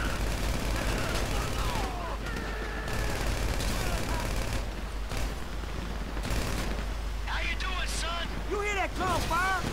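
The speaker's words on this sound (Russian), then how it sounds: "Слышь, выстрелы. Дела серьезные." Bursts of automatic gunfire in Grand Theft Auto V crackle through a dense, loud game soundscape with engine rumble and wind-like noise, while someone talks over it.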